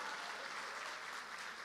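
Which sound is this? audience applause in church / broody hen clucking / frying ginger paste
audience applause in church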